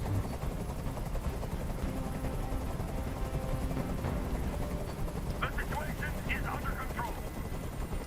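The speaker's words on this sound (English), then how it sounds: "I can't stand that noise anymore. Tell that helicopter to get out of here." Helicopter rotor drone overhead, a steady loud throbbing rumble that fills the whole stretch, with voices speaking over it near the end.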